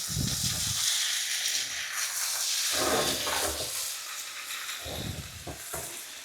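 Pumpkin with Italian herbs is stirred in a hot pan, a constant sizzle broken by three bursts of scraping and stirring, close and fairly loud, with no voices.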